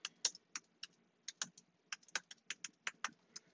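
A curl command being typed on a computer keyboard: crisp, close keystrokes in quick irregular bursts with short pauses between them, alone with no talking.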